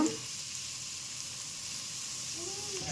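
Chicken fried rice sizzles steadily in a hot pan while being stirred, a continuous loud hiss of frying with faint scraping underneath.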